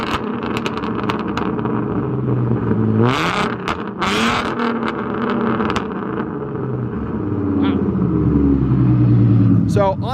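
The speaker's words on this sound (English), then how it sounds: "This is my first time really hearing my car get revved with this setup." A supercharged 3.7 V6 Mustang engine with an M122 supercharger swap revs in a few sharp bursts, rising and falling over a steady idle rumble, with people talking nearby.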